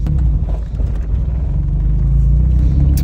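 A car engine runs steadily and close by, a loud, constant low rumble that holds even throughout with no break and no voices.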